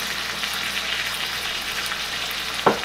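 Pasta sauce sizzles in a stovetop pan over low heat, a steady broadband frying hiss running throughout with a brief louder splash or stir near the end.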